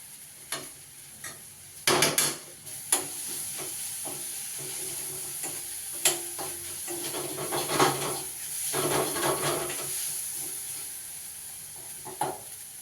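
A spoon stirs soaked flattened rice (avalakki) into a hot pan with cooked okra, giving irregular scraping strokes and soft thumps over a low, continuous sizzle.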